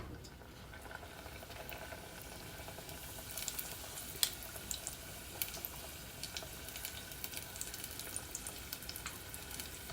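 Low-carb peach cobbler egg rolls sizzle steadily in hot oil, a soft, continuous crackle with scattered sharper pops and spits throughout, heard alone without talk.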